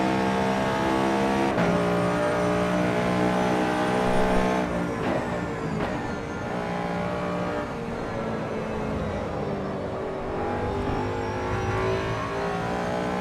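Ford Coyote V8 engine in the Project Motor Racing sim game, loud steady induction roar with sustained harmonic drone and shifts in pitch as revs change, continuous and close throughout.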